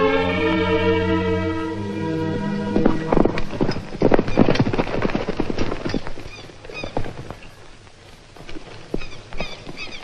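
Horse hooves clip-clop in a steady walking rhythm close by, with a loud whinny opening the passage before the hoofbeats carry on alone and fade somewhat toward the end.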